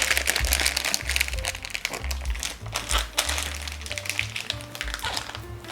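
A heat-resistant plastic zipper storage bag holding salt-koji chicken breast is pressed flat and sealed, giving close, busy crinkling and crackling of plastic with small taps and rustles throughout.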